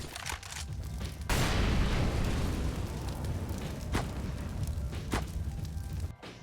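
An incendiary grenade in Counter-Strike on the Inferno map, a broad rushing whoosh and roar of ignition that swells and holds for several seconds, broken by a few sharp clicks and pops, loud and with no voice over it.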